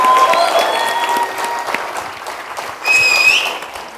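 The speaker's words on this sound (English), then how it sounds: "Let's give them all a round of applause." An awards-ceremony audience applauds, a dense wash of clapping that fades slightly, then swells again with a few whistles.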